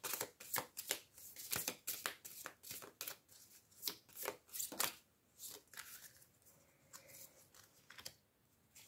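Oracle cards are shuffled by hand to draw three, giving a quiet, close run of quick riffling taps and soft slaps, with no talking.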